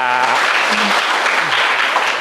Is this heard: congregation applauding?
yes